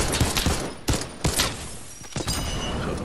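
Pistol fire in the Fortnite battle royale game, a few sharp separate shots spread over a noisy, busy game mix with no talking.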